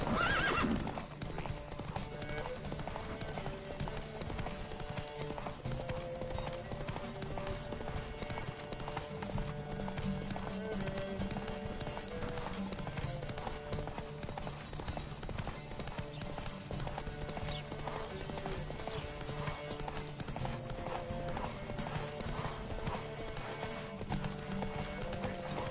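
Horse hooves clip-clop in a steady galloping rhythm throughout a race in The Witcher 3 game, with occasional neighs and whinnies over a continuous music and ambient bed, loud and close.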